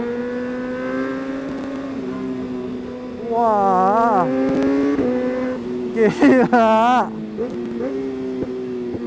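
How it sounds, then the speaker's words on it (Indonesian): A Kawasaki ZX-636R (2019) with quickshifter revs hard over a steady engine drone, pitch swooping up and down with bursts of crackle, while people talk and exclaim nearby. "Meledak-meledak lagi tuh knalpot, mantep."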